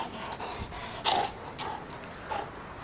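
A dog panting and snorting close by, quick breathy puffs and snuffles with a couple of louder bursts, heard alone without talk.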